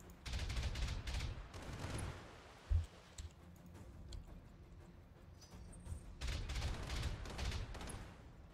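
BattleTech mech weapons fire in rapid rattling volleys, with one burst at the start and another near the end, a single heavy thump between them, and a quieter rumbling lull in the middle.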